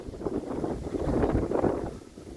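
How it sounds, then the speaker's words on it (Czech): Gusty wind at a seaside resort in the early morning buffets the microphone with a continuous low roar that swells and eases, with no voices. "Dneska teda poměrně fouká"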